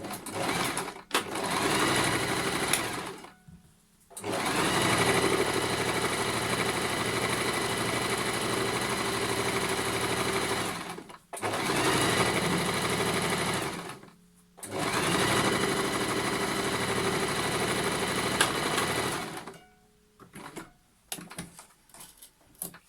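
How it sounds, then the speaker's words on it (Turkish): A sewing machine runs a straight seam while sewing a pouch, in three long steady bursts of stitching separated by short pauses, loud and close with no talk. "Yine düz dikişte makina."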